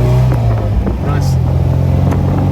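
A 1977 MG MGB roadster's engine drones loudly through its sports exhaust while driving, a steady low hum with a gear change partway through and a voice over it.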